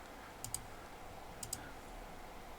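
Computer mouse clicks while working in Blender, two pairs of crisp, faint double clicks about a second apart over a steady low room hiss, with no talking.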